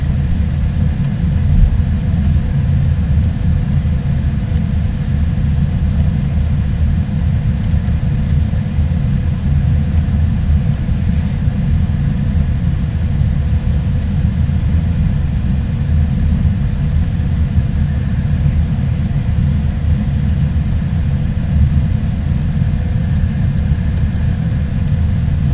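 Pagani Zonda engine in Garry's Mod, a loud, steady low rumble that holds without a break, close and continuous, with no talking.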